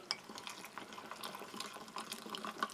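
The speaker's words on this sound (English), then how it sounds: "again I'll give that some more hot water" Hot water pours steadily onto instant mushroom soup granules from an Australian Army CR1M ration, giving a faint, continuous trickling splash with a few small clinks.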